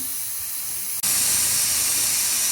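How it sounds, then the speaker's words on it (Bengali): A pressure cooker holding basanti pulao vents its steam: a steady hiss abruptly jumps into a loud, sustained, close rushing blast of escaping steam. "আমি এবার গ্যাসটা বের করে দিচ্ছি"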